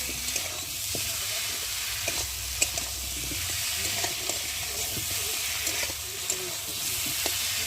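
Spices sizzle steadily in a hot pan for an egg curry, and a spatula clicks and scrapes at irregular intervals as the mixture is stirred, close and without talking.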